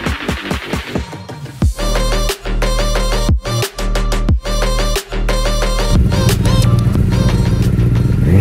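A 2012 Honda CBR1000RR Repsol Fireblade sportbike's engine runs close by, with rapid pulsing blips and throbbing revs broken by short gaps, then settling into a loud, steady idle roar.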